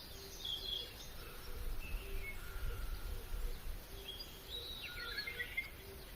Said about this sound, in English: Bird aviary, a huge covered space where birds can fly around freely.